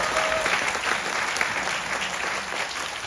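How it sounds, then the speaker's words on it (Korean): An indoor crowd at a civic gathering claps steadily and evenly throughout, a dense applause heard from within the audience. "우리 모두에게 감사와 격려, 박수 부탁드립니다."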